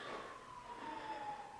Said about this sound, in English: I don't know if you could hear those sirens just then.